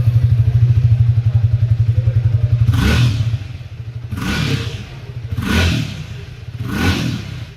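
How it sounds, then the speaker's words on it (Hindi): A Triumph Speed T4 motorcycle idles with a deep, thumpy exhaust note, then revs four times in succession, each blip swelling and falling back, close by and loud with no talk. "तो एक बार इसका एग्जॉस्ट नोट सुन लेते हैं"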